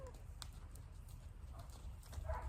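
Horse hooves stepping on the ground as the horse backs up and turns during groundwork, a few soft clip-clop thuds over a low outdoor rumble, fairly faint.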